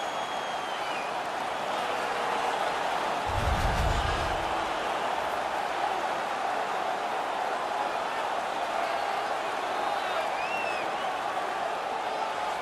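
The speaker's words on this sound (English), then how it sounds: "The crowd is ecstatic." A crowd roars after a hockey fight between Boston and Montreal in the NHL 17 video game, a constant wash of arena noise with a brief low thump partway through.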